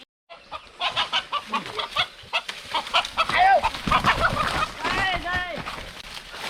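A rooster clucks and calls repeatedly in a rural village setting, close and fairly loud, with rising squawks toward the end and people talking nearby.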